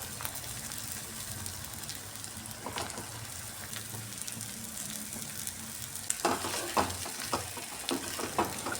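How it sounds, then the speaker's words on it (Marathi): Masala being fried and stirred in a kadhai with a spoonful of oil while cooking stuffed brinjal, a steady close sizzle with scattered crackles and sharper scraping stir strokes growing busier near the end, no voices. "कढईमध्ये 1 चमचा तेल घेऊन राहिलेला मसाला चांगला परतून घेऊया"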